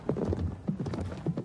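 A horse's hooves clip-clop in a quick uneven rhythm, several distinct knocks close by over a couple of seconds, with a faint low rumble underneath.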